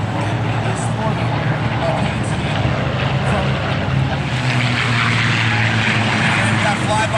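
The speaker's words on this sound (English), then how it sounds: "And we've got flyby here at P-51 Mustang and the markings of the 357th Fighter Group." A P-51 Mustang propeller fighter in 357th Fighter Group markings makes a flyby at an air show, its steady engine drone loud and continuous throughout without a clear rise or fade.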